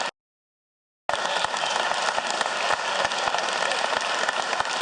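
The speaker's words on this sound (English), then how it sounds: "I'd like for y'all to give them a round of applause." Audience round of applause in a state House chamber, starting abruptly after a second of silence and continuing as steady, dense clapping with a few sharp individual claps for about four seconds.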